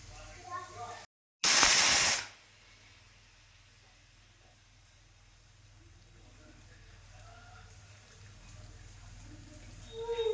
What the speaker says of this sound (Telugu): ఇట్లా ఫోర్ విజిల్స్ రావాలండి